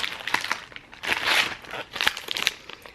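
A plastic hospital bag crinkles and rustles in uneven bursts, close and fairly loud, with no voices.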